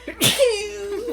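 A single sharp sneeze, loud and close, followed by a short trailing vocal sound.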